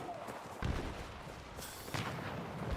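Gunfire crackles in Battlefield 6 during a multiplayer firefight, with a few distant shots and booms landing over steady background noise.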